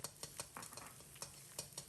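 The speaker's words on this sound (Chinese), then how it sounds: "把小料炒出香味。" Minced garlic and ginger are stir-fried in a wok over high heat in oil rendered from pork slices for twice-cooked pork. A steady sizzle runs throughout, broken by several sharp, close spatula scrapes and clanks, with no talking.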